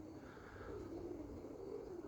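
Young roller pigeons give soft, low coos, faint and continuous against a quiet background.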